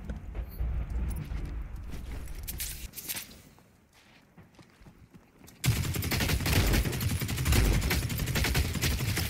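Bursts of rapid gunfire in the video game The Cycle: Frontier crackle loudly, fade into a quieter stretch, then return as dense continuous shooting.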